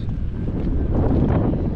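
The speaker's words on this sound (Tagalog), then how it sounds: "hangin, malakas yung hangin" Strong wind in Manchester, England, buffeting the microphone in a constant low roar, loud and unbroken throughout.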